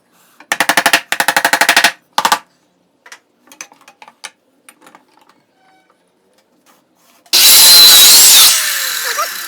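Power saw cuts a small wooden wedge clamped with a C-clamp while building a stool from leftover pallet wood; a loud, sustained buzzing cut lasts about two seconds near the end, after earlier bursts of rattling and scattered clicks.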